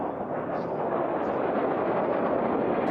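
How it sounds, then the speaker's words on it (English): A Fouga jet passes at an air show as a steady, broad roar of engine noise that stays loud and even for a few seconds with no clear rise or fade. "There is the Fuga jet as it goes by."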